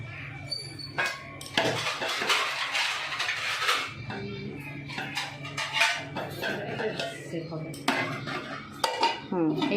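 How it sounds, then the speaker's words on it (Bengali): A lid set onto a pressure cooker of mutton on low heat, with clattering metal clinks and scraping of cookware, several sharp knocks spread through the clip, close and clear. "এবার একটা ঢাকা দিয়ে দেব।"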